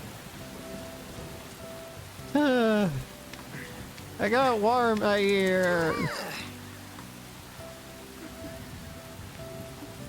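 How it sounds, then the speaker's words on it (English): Steady rain hisses in the video game Persona 5 Royal, a continuous wash beneath soft background game tones, while people talk over it in two bursts. "Great. Rain."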